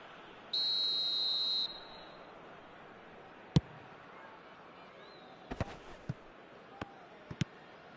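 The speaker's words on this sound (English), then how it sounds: "whistle's gone, that's a foul." A referee's whistle sounds once in a football match between Oakland Roots and Manchester, one sharp, loud blast of about a second over steady crowd murmur, followed by scattered short thuds and knocks.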